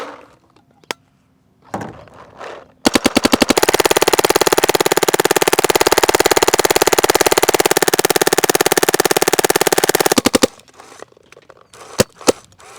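An Empire Axe 2.0 paintball marker fires in a long, very fast unbroken burst of near, loud, evenly spaced pops lasting about seven seconds, with a few isolated clicks and handling noises before and after.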